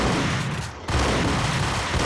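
Dense video-game gunfire from Max Payne, a loud, continuous barrage of shots that drops out for a split second before resuming just as heavily.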